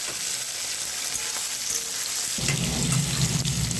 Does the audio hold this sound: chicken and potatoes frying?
yes